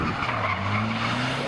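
A car drifts sideways under instruction on a drift track, its tires skidding in a loud, sustained squeal over a steady engine drone for the whole moment.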